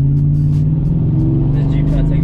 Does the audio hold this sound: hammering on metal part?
no